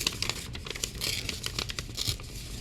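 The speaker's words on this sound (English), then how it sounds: "So we'll tear this text block here out" Paper being torn to pull a text block free for a journal cover, a close, steady run of crinkling rips lasting a couple of seconds with no voices.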